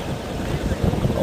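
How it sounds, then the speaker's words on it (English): Strong wind buffets a microphone on a boat at night, a loud, continuous low roar with gusty swells and a faint tone near the end. "The wind is wild"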